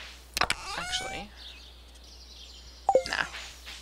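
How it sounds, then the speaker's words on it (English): A house cat meows and cries in the background, in two short bursts: one near the start and another near the end, with quiet room tone in between. "Cat is going bonkers."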